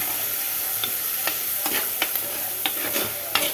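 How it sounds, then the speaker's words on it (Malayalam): Onion and green chilli sizzle in a hot pan with a steady bright frying hiss, broken by several sharp scraping stirs of a spatula at close range. "ഉള്ളി പച്ചമുളകും കൂടെ ചേർത്ത് കേട്ടോ അത് കഴിഞ്ഞിട്ട് ഉപ്പും മഞ്ഞൾപ്പൊടി അത് ചേർക്കും ഇനി നന്നായിട്ട് വഴണ്ട് വരട്ടെ"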